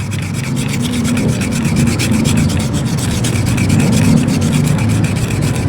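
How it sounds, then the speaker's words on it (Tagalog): A scratched metal shaft is filed and polished during a repair, giving a loud, continuous rasping rub with a rapid back-and-forth texture that carries on steadily, with no talking. "Tapos lilihain natin yung shafting bago natin ilabas."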